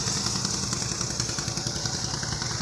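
A motor-driven river boat loaded with sand chugs past on a river near Jamalpur, a steady clattering engine drone holding close and even throughout with no talk.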